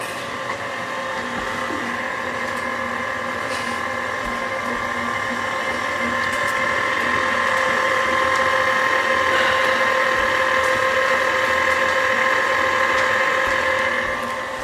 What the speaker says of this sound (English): So now we're just letting the dough hook work